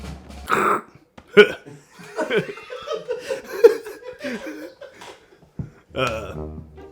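A voice makes garbled, crackly squawks and warbling noises imitating a distorted SIPR secret military radio transmission, with bursts of static-like hiss.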